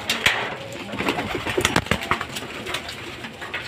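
Racing pigeons coo steadily inside a loft at feeding time, a busy overlapping chorus of soft throaty calls with occasional sharper clicks and wing shuffles, close and continuous throughout.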